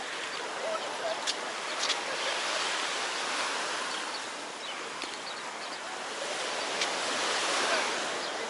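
Continuous rushing surf of Baltic Sea waves at Zelenogradsk, a steady wash of noise with faint voices of a crowded promenade in the background.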